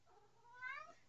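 A cat gives one faint, rising meow, brief and somewhat distant, heard alone against quiet background hiss.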